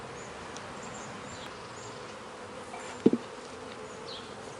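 Honey bees hum around hive frames during a colony inspection, a soft steady buzz throughout, with one brief sharp knock of equipment near the middle.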